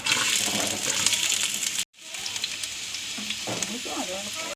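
Loud continuous sizzling of onions frying in hot oil in a heavy uruli pot, briefly cut off, then resuming with stirring noises.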